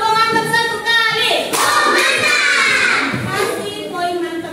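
Children in an Indonesian classroom give a short rhythmic 'tepuk mantap' group clap, a burst of hand claps and excited young voices, close and loud with chatter around it.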